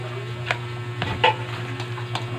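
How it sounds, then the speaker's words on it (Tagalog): Crispy sisig, a large three-kilo batch of chopped fried pork, being mixed with mayonnaise and pepper, giving soft scraping and clicking stirs at uneven intervals over a steady low hum, fairly close. "Yan yung mayonnaise, halo natin ng mabuti."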